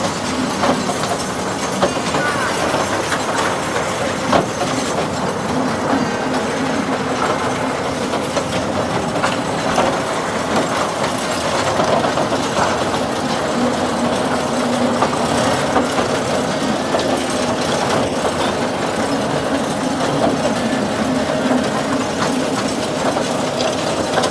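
A toy train rolls along past Howrah station near the rail museum, a steady broadband rumble of wheels and carriage clatter running continuously at even loudness throughout.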